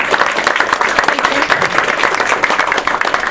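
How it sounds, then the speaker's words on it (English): A community audience at a neighborhood aldermanic debate breaks into steady, dense applause, many hands clapping together loudly and continuously from start to finish. "a big round of applause for all of us"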